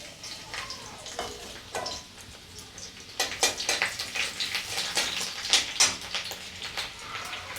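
Chopped garlic fries in hot white oil in a wok, a close crackling sizzle that starts softer and turns louder and busier with rapid popping bursts, heard alone without talk.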